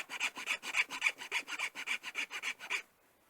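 A hand file rasping across a piece of nylon plastic, about a dozen even back-and-forth strokes in a quick regular rhythm, close and clear, then stopping abruptly.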